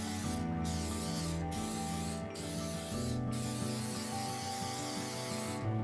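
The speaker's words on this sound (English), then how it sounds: "I'm going to generously spray down with my oil." Short, sharp hissing bursts of cooking oil spray coat an 8x8 baking pan, about five quick squirts in an irregular rhythm, close and fairly loud over a soft, steady background tone.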